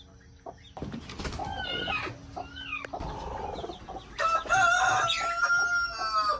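Backyard chickens, a hen with her chicks among them, cluck and call close by, with a rooster crowing in a long rising burst toward the end over a busy farmyard background.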